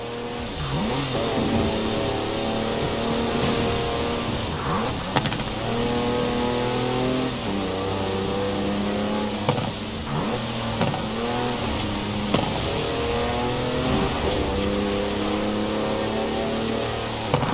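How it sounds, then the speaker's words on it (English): A 4-wheel drive car on mud tyres drifting sideways in Forza Horizon 4, its mid-pitched engine revving and rising in repeated loud surges over about seventeen seconds, heard alone without talk. "That's a 4-wheel drive car on mud tyres completely sideways."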